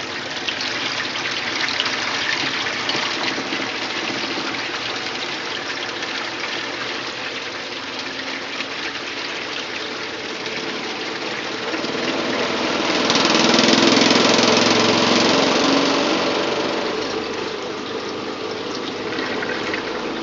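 A Maytag A50 and a Simplicity twin-tub washer spin and pump together, giving a loud steady motorized whir with rushing water that swells into a heavier gush midway before settling back.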